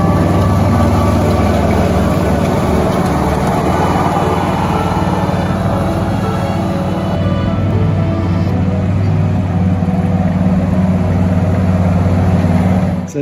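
A restored M4 Sherman tank's engine runs steadily for the whole stretch, a loud, close, continuous rumbling drone with a faint high whine on top and no talk.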